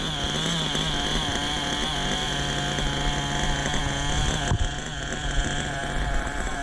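A truck engine idles loudly and steadily up close, a dense chugging drone with a slight pulsating unevenness and a brief dip midway.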